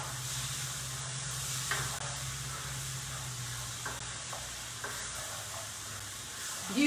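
White wine poured over garlic, onions and mushrooms sizzling in a pan for pasta sauce, a steady close hiss of frying with a few faint stirring clicks, no talking.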